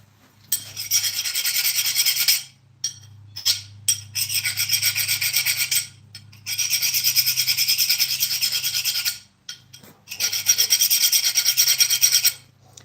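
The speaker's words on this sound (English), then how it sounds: "Sharpen this up a little bit more" Rhythmic rasping of a hand file sharpening metal in a garage, repeated back-and-forth strokes in bursts of a few seconds with short pauses, close and fairly loud.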